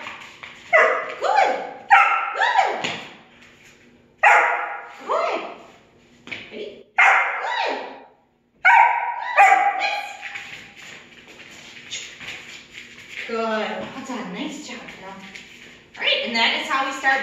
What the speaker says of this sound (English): Barking for prey objects, including toys.